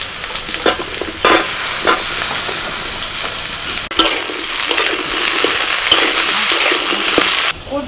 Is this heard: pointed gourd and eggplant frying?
yes